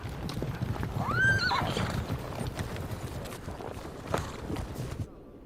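A herd of horses being rounded up by ranchers: one loud whinny near the start, then steady clip-clop of many hooves with scattered snorts, close and continuous until it cuts off abruptly at the end.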